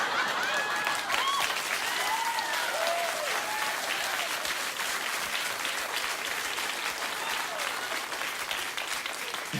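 A late-night talk show studio audience applauding loudly and steadily, a dense sustained wash of clapping with a few whoops rising over it, heard alone without talk.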